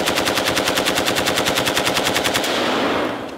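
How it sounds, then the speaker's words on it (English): Designed AK-47 fully automatic gunfire for a game, old and clanky, layered with M60 machine gun mechanical sounds; a loud, fast, steady burst of shots for about two and a half seconds, then a fading reverberant tail. "The AK needs to sound old and clanky, so I looked up some footage of one being shot in real life"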